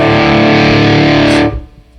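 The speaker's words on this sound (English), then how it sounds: "I do a lot of volume swell stuff, and I usually try to put a tail on the end of it, meaning there's a reverb going on." An electric guitar volume swell played with distortion and effects, a thick sustained chord that holds loud for about a second and a half, then cuts off into a short, fading reverb tail.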